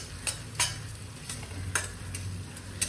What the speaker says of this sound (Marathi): आणि छान एकदा परतून घेते।